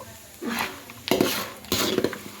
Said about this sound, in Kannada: ಈಗ ಬೆಳ್ಳುಳ್ಳಿ ಮತ್ತು ಕರಿಬೇವು ಹಾಕ್ಕೊಳಕತ್ತೀನಿ ನೋಡಿರಿ